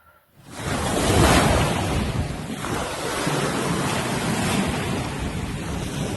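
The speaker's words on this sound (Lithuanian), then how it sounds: "Jūra nerami kaip gyvenimas, bet vis tiek savo tikmę teka." Restless sea waves roll and wash continuously close by, a broad rushing surge that swells and eases, mixed with wind buffeting the microphone.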